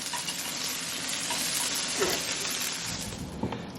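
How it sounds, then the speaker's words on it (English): Eggs cook in a pan with a steady, close hiss and bubbling crackle that holds evenly throughout, with no voices over it. "So I'm going to cook the eggs meanwhile."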